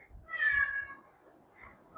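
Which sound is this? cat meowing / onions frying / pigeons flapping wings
cat meowing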